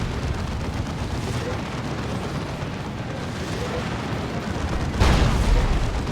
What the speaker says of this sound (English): There's the Demolisher Cannon.